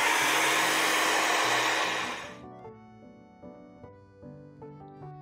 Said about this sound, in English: I'm going to speed this along by drying this with the hairdryer.